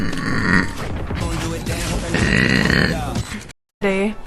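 A woman streaming on Twitch lets out a long, loud, grinding burp that lasts several seconds and nearly drowns out the game sound beneath it, followed by a brief silence.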